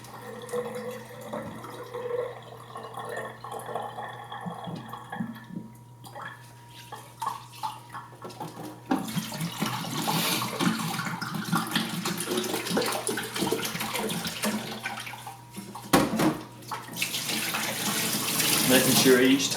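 Tap water running into and pouring out of a film processing tank during C41 4x5 rinsing, a continuous splashing gush that grows louder and fuller in the second half, with some talking in the background.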